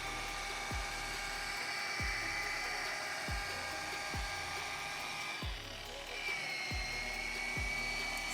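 A rotary polishing machine working on a car's paint, giving a steady high motor whine with regular dull thumps as the pad moves across the panel, no talking.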